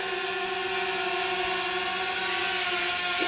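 A Potensic Atom drone with a 3-axis gimbal hovers close by while landing, its rotors giving a steady, loud high-pitched whir with constant tonal hum lines and no pauses.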